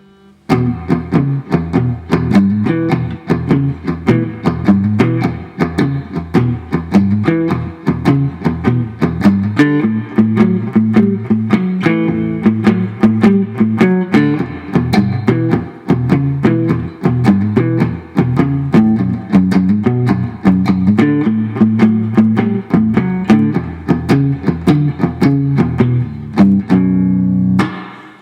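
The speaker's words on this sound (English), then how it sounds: "That's a typical shuffle pattern." An electric guitar plays a steady, bouncing shuffle rhythm of repeated low riffs with crisp picked attacks, loud and close, with no voices.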